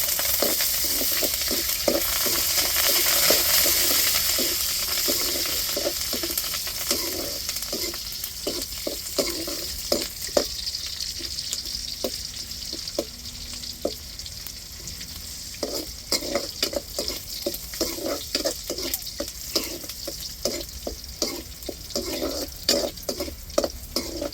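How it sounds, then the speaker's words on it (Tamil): Curry leaves fry in hot oil, a busy crackling sizzle with sharp spattering pops that comes in bursts, close and steady over the whole stretch. "இப்போ கருவேப்பிலை சேர்த்துக்கிறோம்."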